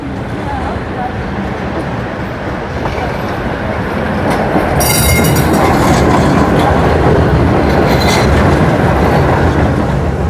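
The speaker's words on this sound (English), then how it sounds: "Should we let the tram pass? Yeah, let's let the tram pass." A tram passes along a Sofia city street, its rumble and rail clatter swelling loud and close after a few seconds and holding steady with faint wheel squeal.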